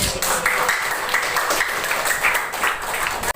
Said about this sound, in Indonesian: Tepuk tangan untuk diri kita masing-masing.